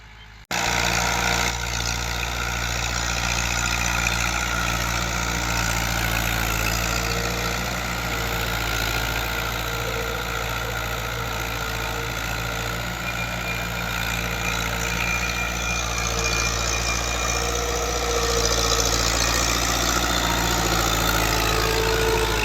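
A Fiat 640 tractor pulls a chisel plough through a field in Pakistan, its diesel engine droning steadily at a low, constant pitch and staying loud and close for the whole stretch, with no speech.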